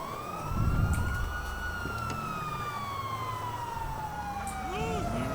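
A wailing police siren in a video game sweeps steadily up and down at moderate distance, layered over a continuous low rumble of traffic or engine noise.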